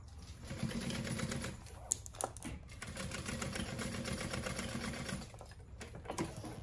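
A sewing machine stitches through thick layers of a crossbody bag, its needle running in a steady rapid chatter that briefly pauses and restarts, close and fairly quiet.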